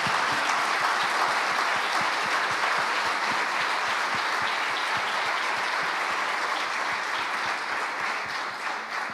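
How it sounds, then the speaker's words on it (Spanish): Congregation in a church service applauding steadily for several seconds, dense close clapping that stays loud and fades slightly at the end, with no talk over it. "Yo quiero que le demos un aplauso a Jesucristo por lo que hizo por nosotros."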